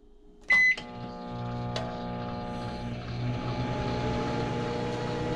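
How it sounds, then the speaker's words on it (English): Microwave oven powered from a 12 volt battery through an inverter: a short beep, a door or button click, then a steady loud mains-frequency hum with rising fan noise running continuously. "I think it's going to be able to run the microwave."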